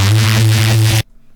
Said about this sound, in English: Basic Reese, just 2 saw waves, detuned, compression, distortion, and a separate sub bass